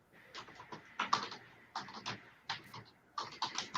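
Typing on a computer keyboard comes through faintly over a call: clustered bursts of quick clicks separated by short pauses, with no one speaking.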